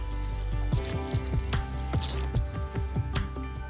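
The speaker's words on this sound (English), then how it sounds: "add some liquid fertilizer to water it all in" Liquid fertilizer is poured from a watering container into a planting hole of coir peat and soil wetter, a run of wet splashes and squishy gurgles with uneven rhythm, close and fairly soft.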